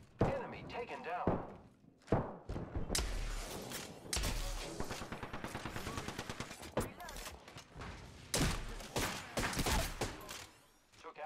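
Rapid bursts of automatic gunfire and heavy thuds pound through a video game firefight, dense and loud, with several pauses between volleys.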